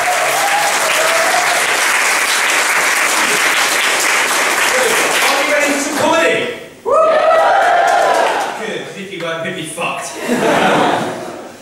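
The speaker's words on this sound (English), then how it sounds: "can we give them a round of applause, please?" Loud, dense applause from a live comedy club audience at a dementia charity night, sustained for several seconds, then breaking into cheers, laughter and whoops with voices mixed in.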